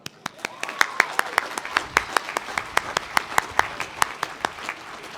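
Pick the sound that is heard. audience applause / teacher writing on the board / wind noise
audience applause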